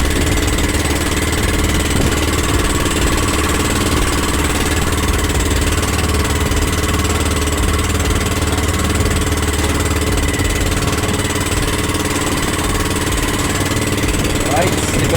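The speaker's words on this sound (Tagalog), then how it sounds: "si Kuya Erwin nagpapandar na rin ng makina" A boat engine drones continuously, a low mechanical rumble with faint knocking, loud and close throughout with no pauses.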